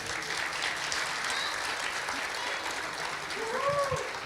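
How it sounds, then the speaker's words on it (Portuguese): A church congregation applauds at a Sunday service, a dense, steady clapping that fills the room for several seconds, with a few voices rising faintly near the end. "Dê uma salva de palmas para elas."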